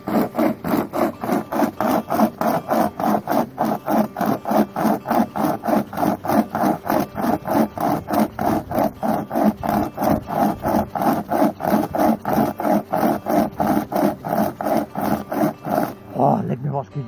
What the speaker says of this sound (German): Das ist eine Säge.